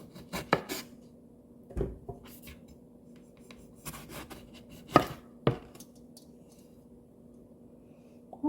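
A knife chops ripe homegrown tomatoes on a cutting board indoors, making about a dozen crisp, irregular thuds and taps with short gaps between them, close and clear over a faint steady background hum.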